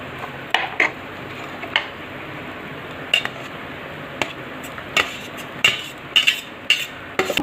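A metal spoon clanks and scrapes against a pot while palak lemon rice is stirred, producing irregular bright clinks and knocks, close and fairly loud, with a quiet background and no talking.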